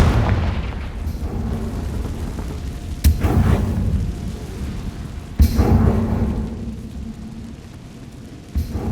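Confringo blasting spell explosions in Hogwarts Legacy, heavy booming blasts with long rumbling decays, two strong hits and a smaller third over continuous low roar, loud and close.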